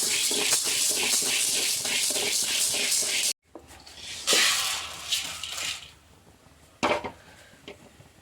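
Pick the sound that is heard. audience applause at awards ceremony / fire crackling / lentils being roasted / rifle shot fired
lentils being roasted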